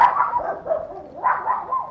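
A dog barks and yelps in a continuous, fairly loud run of overlapping calls, heard close and alone with no talking.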